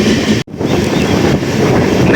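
The Chennai Egmore–Guruvayur train rumbles loud and close beside a halted train at a railway junction, a dense steady roar of wheels and carriages broken by one split-second cut.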